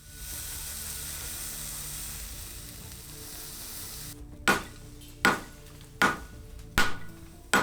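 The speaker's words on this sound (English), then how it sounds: "I hot fold it, apply borax, and then forge weld it again" Borax hisses on a hot steel billet during forge welding, a steady sizzle that drops away before five evenly spaced, ringing hammer blows strike the steel.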